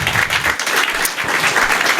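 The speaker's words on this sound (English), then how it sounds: "So a big round of applause for these ladies." Loud, sustained applause from an audience at a Beacon Historical Society gathering, filling the whole stretch with dense clapping and no pauses.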